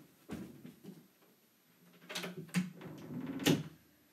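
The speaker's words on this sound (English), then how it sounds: "I'm just going to close the door of the bedroom." A bedroom door swinging shut, with a soft bump near the start and then a few close knocks and clunks that end in one sharper latch-like thud.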